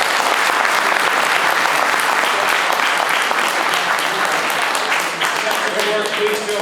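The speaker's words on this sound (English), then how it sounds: "round of applause for our panel" A loud, dense round of applause from an audience at a construction industry apprenticeship panel event fills the room and holds steady throughout, with faint voices under the clapping near the end.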